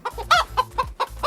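A child imitates a chicken with a run of quick, close, rhythmic vocal clucks and squawks, about six bursts in under two seconds, with no other talk.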